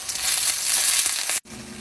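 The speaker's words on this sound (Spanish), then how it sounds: "En el comal voy a estar asando unos tomatillos verdes, chile serrano, chile jalapeño, unos 4 o 5 ajitos y un pedazo de cebolla" Tomatillos, serrano and jalapeño chiles, garlic cloves and a piece of onion roast in a little oil on a comal, giving a steady broad crackling sizzle for over a second before it cuts off abruptly.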